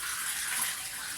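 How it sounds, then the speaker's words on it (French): Running tap water pours steadily into a kitchen sink for a rinse during baking, a close, continuous hissing splash heard alone. "Je vais rincer là parce que j'en ai besoin."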